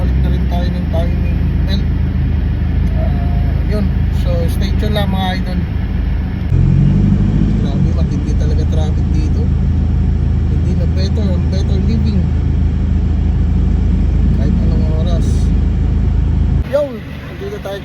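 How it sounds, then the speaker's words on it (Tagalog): Dense heavy road traffic heard from inside a vehicle, a loud continuous engine rumble and road roar with vehicles passing, while people talk throughout. "Ah, sobrang traffic, grabe."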